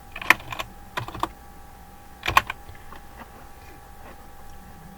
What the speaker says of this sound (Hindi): इसको हम टाइप करके देखते हैं